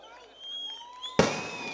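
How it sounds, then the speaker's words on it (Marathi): A single sharp, loud firecracker bang bursts out after a faint, whistling hum at a political rally, then its crackle fades quickly. "फटाके थांबवा ना आता"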